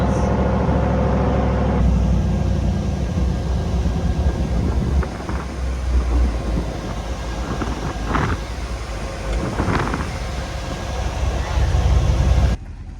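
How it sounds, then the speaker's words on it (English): The cabin of the Fab Rats tow rig truck fills with a loud, steady engine drone and rattling drivetrain rumble while it drives back over rough ground at high altitude, with occasional thumps and creaks from the bumpy ride. "Now we're riding back on the Fab Rat truck"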